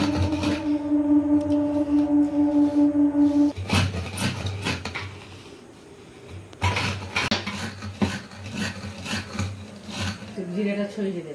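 Cumin seeds stirred in a hot pan for homemade mango pickle, with intermittent metallic scraping and clinking of a utensil against the pan, while people talk nearby.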